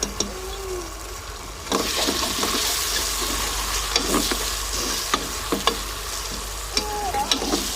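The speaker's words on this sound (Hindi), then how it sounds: "इसे 2-3 मिनट भूनेंगे अदरक लहसुन के पेस्ट को, ताकि इसका कच्चापन खत्म हो जाए।" Ginger garlic paste frying with golden brown onions in a pan, village style: a steady, close sizzle runs throughout, broken by repeated scraping stirs of a spoon against the pan.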